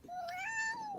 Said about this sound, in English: I just heard the cat's noise